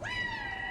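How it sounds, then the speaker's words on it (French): A single drawn-out cat meow from the video game Stray, clear and fairly close, rising then slowly falling, with faint low background noise. "Ils sont en train de miauler depuis là-haut?"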